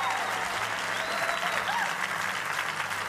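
Applause from a church congregation during a Sunday morning service, a dense steady clapping that fills the room at even strength throughout, with faint murmurs of voices underneath.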